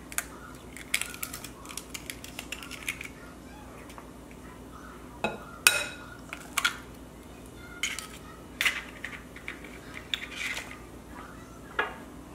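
Minced meat and eggs for frikadeller are worked together in a bowl, with scattered close clicks and soft clinks of utensil on bowl in irregular bursts against a quiet room background.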